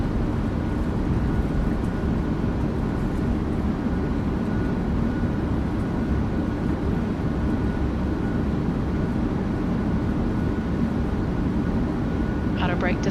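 Boeing 737 thrust reversers deploying on landing in a flight simulator produce a loud, steady, broadband roar that holds unbroken from start to finish.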